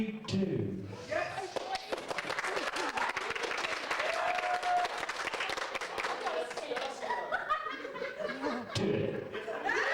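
Audience at a graduation festivities show breaks into applause mixed with laughter and whoops, a continuous crowd roar of clapping and cheering that swells and holds throughout.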